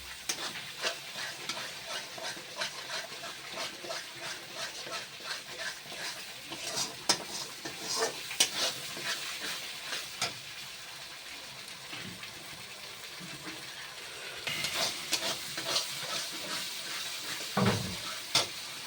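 Masala is fried in a pan for a Bengali dish, with a soft continuous sizzle broken by repeated scraping and clinking stirs, close and moderately loud, ending with a few sharper knocks and no voices.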